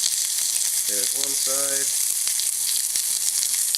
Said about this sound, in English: So now we're going to just sear the sides real quick before we put it in the oven.